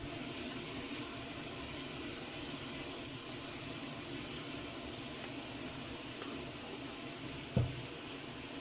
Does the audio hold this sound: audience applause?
no